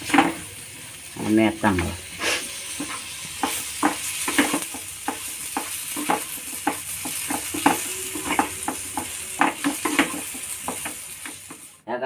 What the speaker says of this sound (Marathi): हा चांगला आपल्याला ढवळून घ्यायचा आहे.